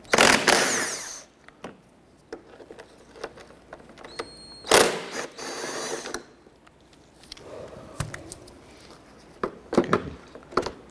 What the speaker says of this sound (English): We're going to remove the two 10mm bolts holding it in place.